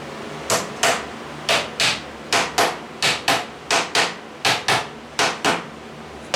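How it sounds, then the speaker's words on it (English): A small hammer taps wooden plant stand pieces together in a handmade build: about fifteen sharp, close knocks in irregular pairs and singles, clear and fairly loud over a quiet room. "A little hammer."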